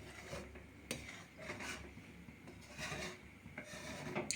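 Milk boiling down into mava (khoa) in a pot is stirred and scraped with a utensil, giving repeated rasping strokes in an irregular rhythm, close up and moderately loud, with no talking.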